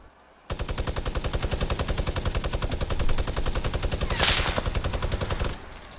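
A Fortnite minigun roars in one continuous rapid-fire stream of tightly spaced, evenly paced shots for about five seconds, loud and close, then abruptly stops.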